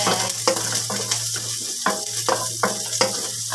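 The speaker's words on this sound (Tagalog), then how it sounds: "lagay na natin yung bawang. Mag-isa-gisa na tayo. Pati na rin ang sibuyas." Garlic and lots of onion sautéing in a pan, a steady loud sizzle broken by a regular series of spatula scrapes and stirs, close up.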